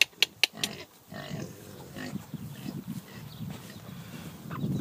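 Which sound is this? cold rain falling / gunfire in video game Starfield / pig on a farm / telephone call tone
pig on a farm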